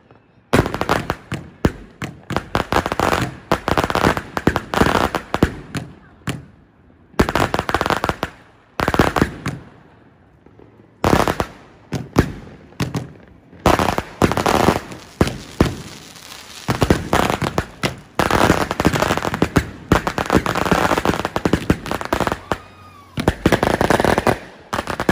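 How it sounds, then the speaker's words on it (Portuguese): Fireworks burst in irregular volleys of loud crackling pops and bangs, with brief quiet gaps between clusters, heard from outdoors with no talk. "Provavelmente, com certeza vai ter fogos."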